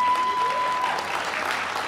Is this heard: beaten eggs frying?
no